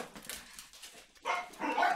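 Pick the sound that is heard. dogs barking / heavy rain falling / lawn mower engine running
dogs barking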